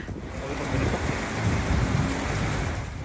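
Loud, continuous roar of wind-driven rain and gusts during Super Typhoon Pepito in Baguio City, a dense rushing wash with swells of intensity and no voices.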